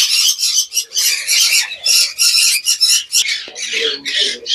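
Caged pineapple conures and yellow-sided conures squawk loudly and near, in rapid harsh bursts of overlapping shrill calls with short gaps, then some lower chattering toward the end.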